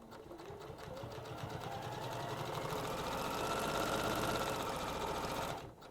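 A domestic sewing machine runs steadily for several seconds, its rapid mechanical whir climbing slightly in speed and loudness before stopping abruptly, heard close and alone.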